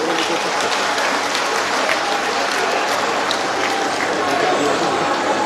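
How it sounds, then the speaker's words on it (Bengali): Loud, dense applause from a large crowd at an award ceremony where Durga Puja committee members receive prizes from the West Bengal Chief Minister, steady and sustained throughout. "জোরে হাততালি হোক।"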